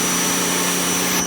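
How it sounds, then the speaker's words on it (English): A GreenWorks 2000 PSI electric pressure washer runs with a loud, steady motor and pump drone, continuous throughout and close by, with no talk over it. "you can hear it, I can feel it in this pressure washer"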